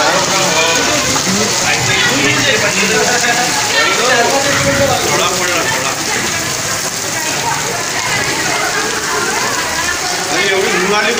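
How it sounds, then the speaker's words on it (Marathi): A sudden downpour with hail in Bhandara–Gondia hammers down as a loud, continuous roar of rain and pelting strikes, with voices faintly audible beneath the din. "अचानक पावसाने आणि गारपिटीने हजेरी लावल्याने"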